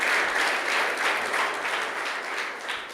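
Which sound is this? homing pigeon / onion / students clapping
students clapping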